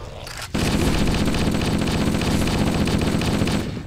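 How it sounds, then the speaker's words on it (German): Loud, sustained burst of gunfire in the Halo video game that cuts in sharply after a brief quiet moment and rattles on steadily, dense and close, before easing slightly at the end. "Oh, ein Schuss."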